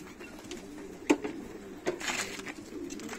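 Pigeons in a loft give soft, throaty coos at close range, a couple of louder calls standing out over faint background rustling.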